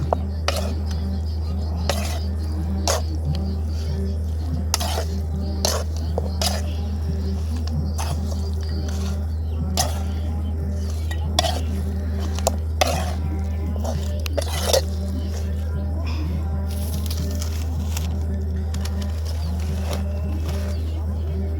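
Mutton fry with spices being stirred in a pan, a spoon scraping and clinking against the metal in a steady irregular rhythm over a constant low hum, with a voice speaking now and then.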